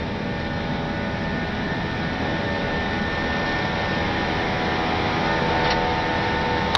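Airbus A320 jet engines spool up to takeoff thrust on the runway at Port Vila, heard from the cockpit as a loud, steady broadband roar with a faint high whine that builds slightly toward the end.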